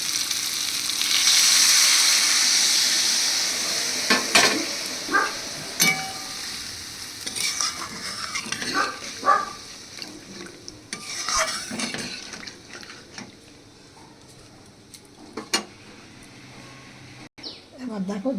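Water is poured into a pan of frying spice paste for a vegetarian chhanar bora dalna, bursting into loud sizzling that settles into steady frying with spoon stirring and pot clinks throughout.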